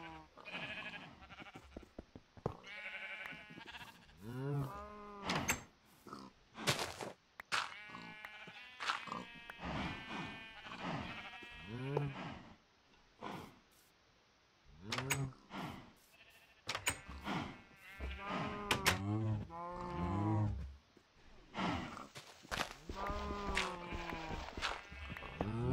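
Sheep in a video game bleat again and again in short nasal bursts, some overlapping, at a fairly quiet, close level with irregular gaps between calls.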